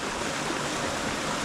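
Small clear jungle creek on the Wankaroo Falls hike, its water running over sand in a steady, close, unbroken wash of noise that stays even from start to finish, with no voices.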